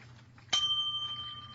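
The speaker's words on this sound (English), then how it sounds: "Give yourself a bell." A bell sound effect struck once on a radio talk show, with a sharp bright ring that hangs on and slowly fades against a quiet studio background.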